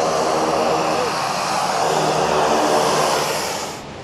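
A small passenger airplane landing on the very short, walled-end runway at Lukla airport in Nepal, with a loud, steady engine roar and broadband rush holding throughout and easing slightly at the end.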